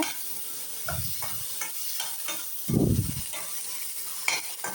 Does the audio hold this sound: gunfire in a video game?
no